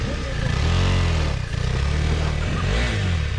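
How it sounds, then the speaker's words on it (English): A KTM 390 Adventure or Kawasaki Versys 650 adventure motorcycle runs loud and close on a single-track trail, its engine rising and falling in pitch as it pulls away. "Start the bike and go."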